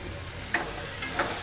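Tomatoes frying in a pan, giving a steady, faint sizzle with two brief stirring scrapes, heard on its own without talk.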